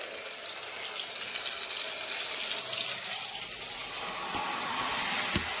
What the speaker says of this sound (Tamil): அரைச்சி வச்சு இந்த பேஸ்ட்டை அப்படியே ஊற்றிட்டேன்